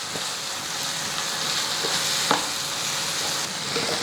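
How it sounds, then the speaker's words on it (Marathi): Banana pieces and dry fruits fry in a pan beside roasting semolina, producing a steady, loud hiss of sizzling oil with occasional soft scrapes from stirring. "म्हणजे केळीसोबत सुकामेवा देखील तळला जातो"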